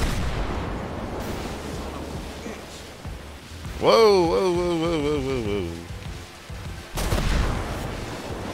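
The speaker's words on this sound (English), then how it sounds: "This is the most explosions I've ever heard out of fire." Explosions from a chemical hazmat fire at a pest control company in the video game GTA 5, rumbling bursts under steady crackling, with a voice exclaiming over a wavering siren-like tone midway.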